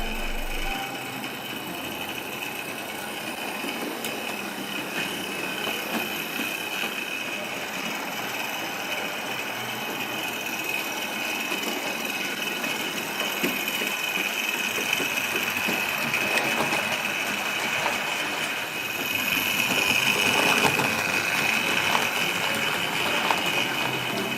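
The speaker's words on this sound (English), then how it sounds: "Here we have a Triang Dean single, named Lord of the Isles." A Triang Dean Single model locomotive, upgraded with metal wheels, runs with a rake of 4- and 6-wheel model coaches, giving a steady, continuous mechanical hum and whir that stays close and even throughout.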